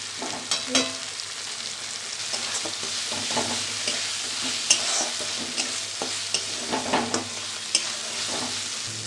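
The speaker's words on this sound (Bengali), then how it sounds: "ভালোভাবে আমি কষিয়ে নেব।" Spiced taro and potato curry with tomato and salt being stirred and sautéed in a pan, a steady sizzle of frying under repeated scraping strokes of the spoon, close and continuous with no talking.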